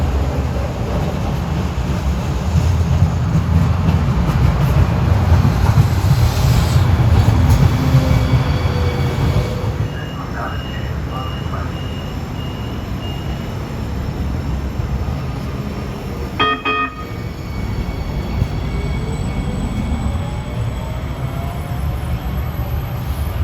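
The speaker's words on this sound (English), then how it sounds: "We have a Broad Street bound train coming in." A Broad Street-bound NJ Transit Newark Light Rail train rumbles steadily as it pulls in, with brief metallic squeals and clanks of wheels on rails partway through, heard from the platform.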